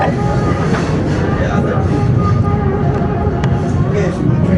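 A train on the Royal Gorge Route railroad gives a loud, steady rumble and rattle heard from on board, with people talking over the noise.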